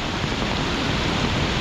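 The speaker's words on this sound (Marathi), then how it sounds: "गेजरामुळे पाणी पडलं." Floodwater gushes over a gauge blocked with leaves and wood debris, a dense, steady rushing roar of water heard up close without a break.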